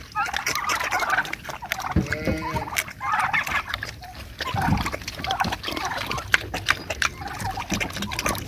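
Pigs and dogs eating together on a farm, with grunting, snuffling and chewing close by, a few squeals and yelping bursts, and busy rustling throughout.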